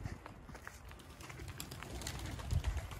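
Pigeons coo faintly at a distance among low, soft background noise, with a slightly louder burst of cooing near the end.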